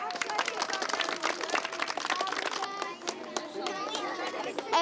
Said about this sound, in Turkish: Evet temizlik gönüllüleri kendileri Hadi alkışlayın bakalım.